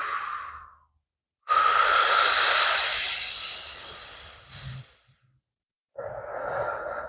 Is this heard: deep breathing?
yes